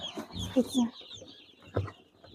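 Domestic chickens, broilers and laying hens kept indoors at home, give a few short, close clucks with a faint murmur of background sound between them.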